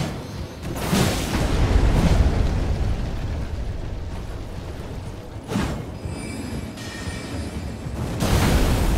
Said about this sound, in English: Neither is the cannon, which is that spell that he just used right there.